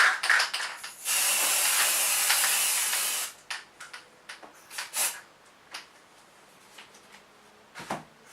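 A steady two-second hiss of aerosol chalk paint sprayed onto a wicker basket, followed by several short, quieter bursts and faint clicks in a quiet room.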